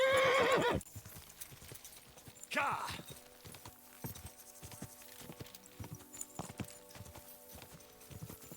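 A horse in the video game Kingdom Come Deliverance 2 whinnies loudly at the start and again shortly after, followed by steady, evenly spaced hoofbeats clip-clopping at a walking pace.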